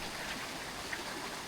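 Sudden heavy rain falls at a clear spring in Nagcarlan, a steady, dense hiss of downpour with no break, fairly faint and even throughout.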